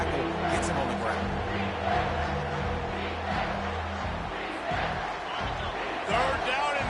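A stadium crowd roars at a football game during a third-down play, a dense continuous wall of cheering and noise throughout, with commentary talk over it.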